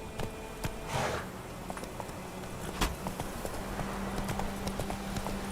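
Horse Roach's hooves clip-clopping at a steady walking rhythm in The Witcher 3, close and moderately loud over a low ambient game backdrop, with no talking.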